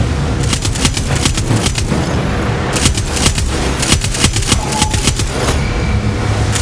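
Dense, continuous gunfire from the video game Far Cry 6, with rapid automatic bursts and scattered booms, loud and sustained throughout, with no talking.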